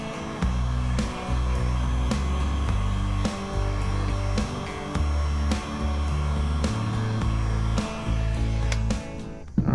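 A heat gun blows steadily while it warms plastic to reshape it. A continuous close, loud airflow drone carries faint clicks and shifts in tone as the gun moves back and forth.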